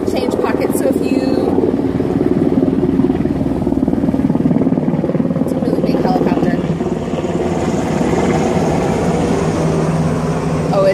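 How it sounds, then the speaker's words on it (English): A Coast Guard helicopter's steady rotor drone fills the air overhead, a continuous low thrum that stays loud throughout. "It's a Coast Guard helicopter."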